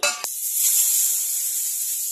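Eggplant slices fry in a pan of hot oil, giving a continuous bright sizzle and crackle that starts after a short knock and holds steady at moderate loudness.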